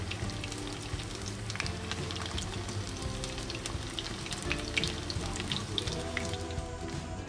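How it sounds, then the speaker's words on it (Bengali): Chicken pieces frying in a pan with a dense, continuous sizzle and scattered crackling pops, steady and close throughout. "আপাতত আমি চিকেনগুলো চলো হালকা করে একদম ফ্রাই করে নিতে হবে"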